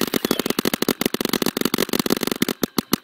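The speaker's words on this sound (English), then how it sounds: "He's shooting for me." Rapid paintball gun fire in a Roblox paintball fight, a dense crackling burst of quick shots heard loud and up close, ending in a few sparser pops.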